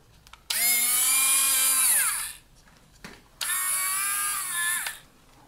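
A high-pitched Dremel rotary tool drilling into an arcade claw machine whines in two bursts of about two seconds each, pitch dropping as it winds down, with a short pause between.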